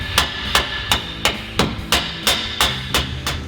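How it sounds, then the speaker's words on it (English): Metal hammer blows drive a subframe connector into place beneath a 1982-92 Camaro/Firebird, nine sharp, evenly spaced strikes ringing close and loud in a steady rhythm. "Then Mark will hammer it into place."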